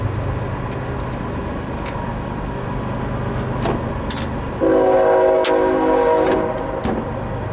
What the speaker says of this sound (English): Don't mind the train going by.